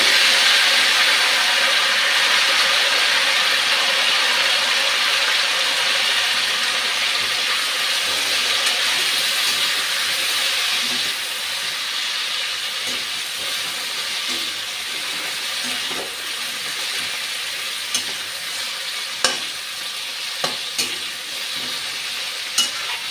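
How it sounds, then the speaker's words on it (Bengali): Cauliflower fries in hot oil in a pan, giving a continuous loud sizzle and hiss with occasional stirring scrapes and small pops toward the end. "এখন ফুলকপিটা ভাজতে দিয়ে দিচ্ছি"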